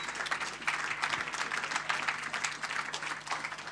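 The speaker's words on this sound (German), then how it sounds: "Dürfen wir ruhig erstmal mit dem Applaus begrüßen." Audience applause welcoming football players at a VIP talk event after a Fortuna Düsseldorf versus Arminia Bielefeld match, dense steady clapping from a crowd held at an even, lively level throughout.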